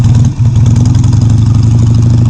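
A Harley-Davidson Sportster motorcycle engine runs close and loud, a deep lumpy idle with a steady rhythmic thump and a brief dip before settling back.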